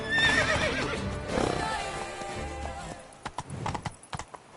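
Roach the horse gallops in a PS4 video game, hooves clip-clopping over a whinny, then sharp separate footfalls standing out near the end; a voice is briefly heard.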